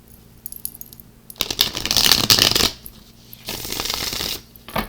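Tarot cards being shuffled by hand in bursts of crisp riffling and slapping, with quieter pauses between, up close and with no talking.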